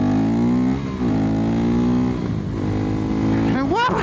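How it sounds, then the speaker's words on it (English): A 2024 KTM Duke 390 Gen 3 motorcycle engine rev climbing steadily, with quick shifter upshifts that dip and rebuild the pitch, heard close and loud under a rider's talk. "Oh, I love that quick shifter. It is so nice."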